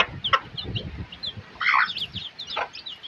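Chickens kept for eggs cluck and squawk in short bursts around a farmyard, with a louder call near the middle and scattered fainter clucks.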